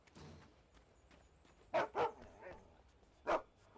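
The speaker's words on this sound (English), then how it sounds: "That place has got a dog in it." A dog barks inside a building in the video game Alan Wake: three sharp barks, two close together and one a moment later, muffled and moderately distant over faint background ambience.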